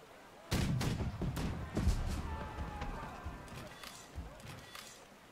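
A burst of heavy booming video game cannon shots in a Napoleonic-era skirmish, several sharp blasts in quick succession then scattered fainter reports, with battle noise underneath.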